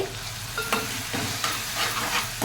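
Ginger garlic paste hitting hot oil in a pan for a goat head curry, a close continuous sizzle with a few sharp scrapes of a spoon stirring it around.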